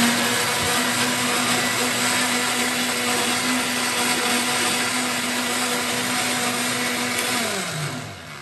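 A blender grinds ingredients for homemade ice candy, running as a loud, steady motor whine for about eight seconds before beginning to wind down at the end, with no voices.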